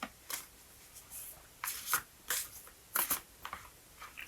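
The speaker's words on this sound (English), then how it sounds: "Shuffle it a little bit more" A deck of oracle cards being shuffled by hand, a series of soft, crisp card-sliding bursts at an uneven rhythm with brief gaps, close but quiet, no talking.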